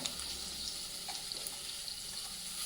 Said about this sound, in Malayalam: മുട്ട ഒന്ന് ചൂടാക്കിയെടുക്കാം കുറച്ച് കറിവേപ്പില ഇട്ട് കൂട്ടാം